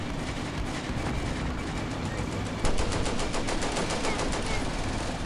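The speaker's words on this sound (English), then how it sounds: "Machine gun is still there from where it was." Rapid machine gun fire in the WWII strategy game Combat Mission: Beyond Overlord, during a battle at Carentan, loud, dense bursts of shots running continuously, intensifying partway through, with a faint voice underneath.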